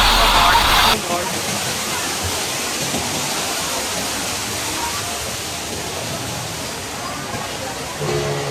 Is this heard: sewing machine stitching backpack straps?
no